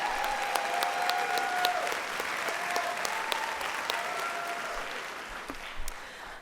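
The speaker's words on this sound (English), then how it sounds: "Let's give another round of applause for our speakers tonight" Steady applause from a large audience at a graduation ceremony fills the space for several seconds, with dense, even clapping heard from a distance in a big hall.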